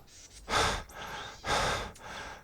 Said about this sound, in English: you can hear me panting